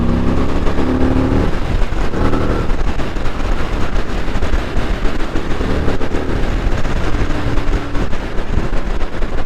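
A motorcycle rides along a mountain road in Scotland, its engine droning steadily with wind rushing across the microphone, a few brief tonal shifts as the rider works through gears.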